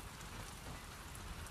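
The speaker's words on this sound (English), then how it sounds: "So there's a heavy rain." Heavy rain falls in The Last of Us Part II video game, a dense, even hiss of drops pattering on surfaces that holds steady throughout. The rain plays alone, with no voices.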